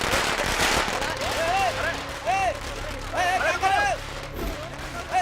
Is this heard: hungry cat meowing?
no